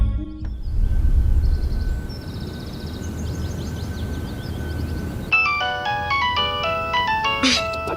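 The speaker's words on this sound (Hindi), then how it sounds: "हुमा, मैं तुम्हें कब से फोन कर रही हूँ, तुम फोन क्यों नहीं उठा रही थी?" A mobile phone ringtone from an incoming call breaks in partway through with a bright melodic sequence of electronic notes, playing fairly loud over a steady low indoor rumble.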